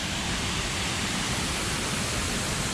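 Waterfall at Mount Emei beside the path up to the tourist area, a steady, dense rush of falling water that fills the whole clip at an even loudness, close by and alone with no voices.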